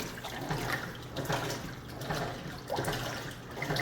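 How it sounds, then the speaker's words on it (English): A residential top-load washer of commercial-style design fills with water through its automatic water level system, giving a steady, fairly loud rushing and splashing of water that runs continuously with small surges and no talk over it. "And with the automatic water level, this is where it fills up large capacity."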